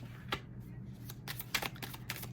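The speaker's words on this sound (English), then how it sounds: "so I'm going to shuffle again" Tarot cards being shuffled during a reading, heard as a few soft, quick riffling bursts with short pauses between them over a low steady hum, with no talking.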